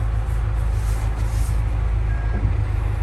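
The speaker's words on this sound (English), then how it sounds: "so it's at full throttle" A Hyundai HX145 excavator's diesel engine runs at full throttle, a steady, loud low-frequency drone and rumble that holds constant throughout with no talk.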